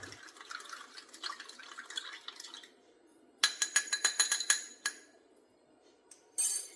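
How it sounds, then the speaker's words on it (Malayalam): Milk is poured into a homemade hand-care mixture and stirred. A faint trickle comes first, then a burst of quick, close clinking strokes against the bowl, then a quiet pause and a final clink. "ഇനി ഇതിലേക്ക് നമുക്ക് കുറച്ച് പാലും കൂടെ ഒഴിച്ചു കൊടുക്കാം കുറച്ച് പാല് എന്നിട്ട് ഇത് നന്നായിട്ടൊന്ന് മിക്സ് ചെയ്യുക"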